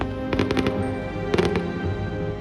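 Christmas fireworks at Colonial Williamsburg crackle and pop in two quick bursts of sharp reports, loud and fairly close, with a lingering rumble between them and no voices.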